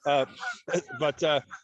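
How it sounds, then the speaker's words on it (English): Geese honk repeatedly in a park, a series of loud, harmonic calls in quick bursts close by, with brief gaps between them. "so you might hear some geese in the background"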